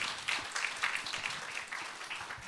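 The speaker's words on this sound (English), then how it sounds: "Let us give big applause to Ambassador Kent Härstedt." Audience at a security forum applauds an ambassador, with continuous crowd clapping, fairly even and sustained, and no voices above it.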